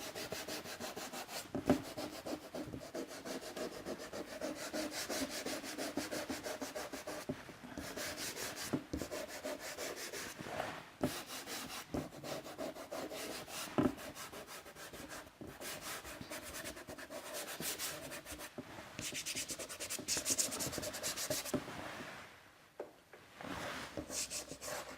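Paper being rubbed to blend a drawing gives a continuous soft, dry scratching and swishing, close and quiet, with uneven strokes and brief pauses and no voices.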